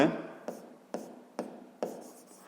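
Pen strokes on paper during a sixth-grade geometry lesson, four short scratchy bursts evenly spaced about half a second apart, close and fairly quiet, with no talking.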